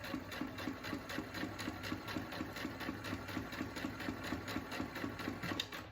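A sewing machine runs steadily, stitching a quarter-inch seam along the side of a fabric face mask, its motor humming with a fast, even needle rhythm that stays loud throughout.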